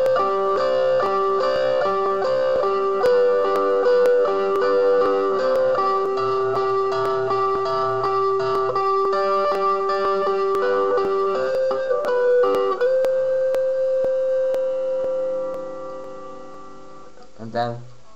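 Guitar plays the closing part of a song, a melodic passage of plucked notes and chords ringing clearly alone for several seconds, then fades near the end with a brief final strum.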